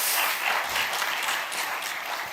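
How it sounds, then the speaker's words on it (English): Conference audience breaks into steady, dense applause, a loud sustained wash of many hands clapping together with no talk over it. "So I would like you to start with an applause for our speakers today."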